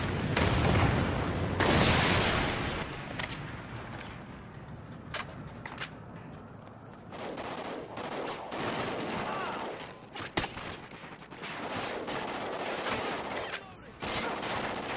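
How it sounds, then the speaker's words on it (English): Explosions from a Trinity rocket strike and gunfire in Call of Duty Ghosts crash out in loud, dense bursts, with a big early blast followed by repeated sharp shots and booms overlapping throughout. "Friendly Trinity rocket inbound."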